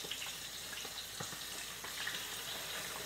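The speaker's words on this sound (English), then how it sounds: "So I drop it meat side down and let it start frying." Steady oil sizzle and crackle from lobster tails frying meat side down in a pan, fairly quiet and continuous with occasional small pops.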